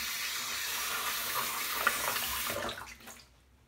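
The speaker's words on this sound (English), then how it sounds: "So, rinse my hands." A tap runs into a sink while hands are rinsed during a wet shave, a close, steady splashing rush that tapers and stops after about three seconds, with no talking.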